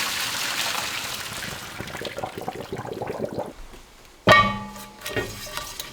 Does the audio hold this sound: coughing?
no